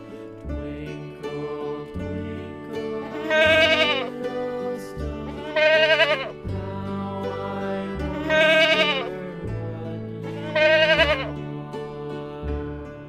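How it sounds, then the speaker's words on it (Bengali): A young goat bleats four times at roughly even intervals, each cry a wavering nasal call of a second or so, heard over a bouncy children's music backing. "ছয়ে ছাগল ছানা লাফিয়ে চলে।"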